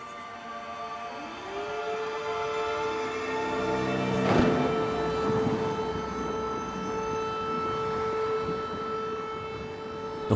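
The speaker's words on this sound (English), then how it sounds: "The haunting sound of the air raid sirens wail across Kyiv" A long, steady air raid siren wails across Kyiv during the war in Ukraine, rising at the start and holding a sustained tone over the distant cityscape, with a brief thud midway.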